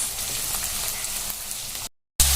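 Steady, close sizzling of onions frying in hot oil, dense and hissing, broken by a brief silence near the end.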